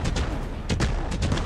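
Fireworks in the Fireworks Mania game burst in a rapid, loud series of sharp bangs and crackling booms, several in quick pairs across a second and a half, with no talking.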